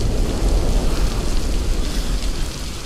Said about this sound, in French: Je crois que c'était le tonnerre.